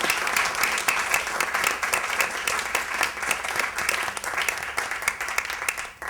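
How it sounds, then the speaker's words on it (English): A theater audience at a culture festival applauds after a performance, a loud, sustained round of clapping filling the room without a break. "I would like to offer another round of applause for that fantastic performance"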